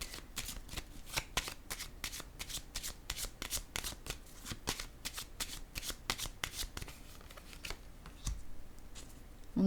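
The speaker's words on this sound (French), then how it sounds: "je vais déposer une carte sur le chariot" Tarot cards being shuffled and handled, a long run of quick crisp riffling flicks in steady rhythm, close and alone with no talk.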